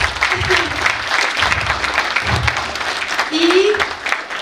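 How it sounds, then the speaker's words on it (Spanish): Applause from an audience at a discussion event, a loud dense patter of clapping with murmuring voices mixed in, rising and falling slightly across its length. "un aplauso para todos y para todas"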